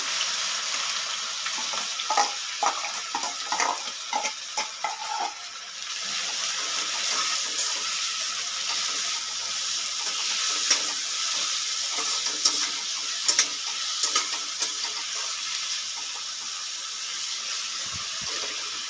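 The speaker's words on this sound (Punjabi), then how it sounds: "ਤੇਲ ਆਪਣਾ ਜਿਹੜਾ ਉਹ ਗਰਮ ਹੋ ਗਿਆ ਹੁਣ ਆਪਾਂ ਇਹਦੇ ਵਿੱਚ ਪਾ ਦਾਂਗੇ ਕੱਟੇ ਹੋਏ ਪਿਆਜ਼" Four medium chopped onions frying in hot oil for baingan bharta, a loud continuous hiss with a burst of stirring clatter early on, heard up close and without speech.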